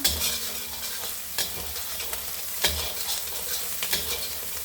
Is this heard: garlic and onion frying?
yes